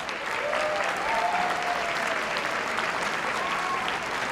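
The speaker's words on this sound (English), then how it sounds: "How about a round of applause for all the recipients so far?" Sustained applause from a seated audience at the 2012 Emmy Awards ceremony, a dense steady clapping that carries evenly throughout, with faint whistles or cheers rising above it.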